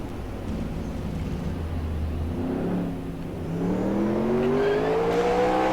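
Race car engines in the NASCAR Racing 2003 video game, during a 1972 Grand National East season race, give a steady loud drone as engine pitch climbs in rising sweeps of acceleration near the end, without speech.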